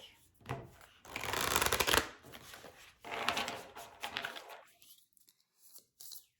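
An oracle card deck being shuffled by hand, close riffling and slapping bursts of cards in two main rounds with softer shuffles trailing off, no voice heard.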